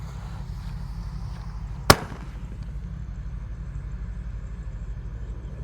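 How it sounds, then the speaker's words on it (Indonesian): A Sonic Boom mini firework launcher fires once with a sharp, loud crack that fades quickly, leaving a steady low rumble of background noise. "Lanjut yang akan kita nyalakan di sini ada pelontar mini Sonic Boom guys. Sudah menyala bosku, siap meluncur."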